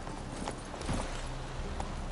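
A horse's hooves clip-clopping at a steady trot in The Witcher 3, the rhythmic beats sitting under a dense, loud wash of game ambience.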